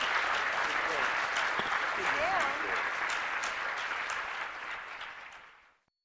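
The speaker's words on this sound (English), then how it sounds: "I hope everyone gives them a big round of applause." A round of applause from an audience for glass artists at the Corning Museum of Glass, steady clapping from many hands that gradually thins and fades out to silence near the end.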